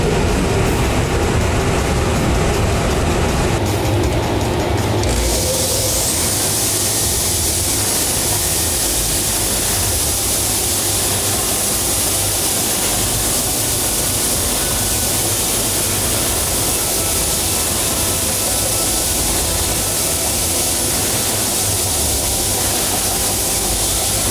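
Hardwood pieces being touched up on a sander: a steady, loud whirring hiss kicks in a few seconds in and runs unbroken to the end, with no voices.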